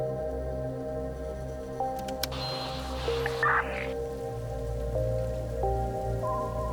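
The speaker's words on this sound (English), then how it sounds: "It's been raining on and off all night." Cold February rain falls at night in a steady, close patter on hard surfaces, continuous throughout with a few faint, sharper sounds and no voices.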